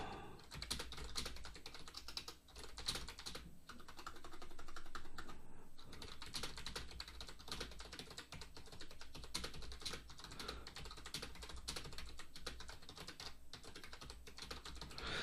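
Steady, continuous typing on a computer keyboard as paragraphs go into a WordPress editor. The keys clatter quickly and close by, with no talking.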